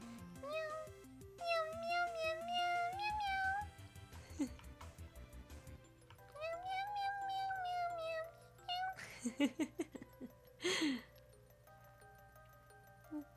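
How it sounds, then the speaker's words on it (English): Repeated meows, drawn out and close, over a steady background rhythm with occasional sharp noises. "Cat noises. Meow, meow, meow, meow, meow."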